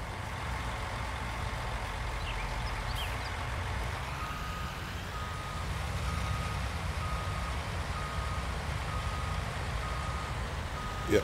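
A truck in the Farming Simulator 19 video game reverses with a steady series of evenly spaced backup beeps, which start partway through over a continuous low engine drone and idling hum.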